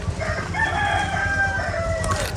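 A rooster crows once in a long, drawn-out call, set back a little from a busy background murmur at a restaurant.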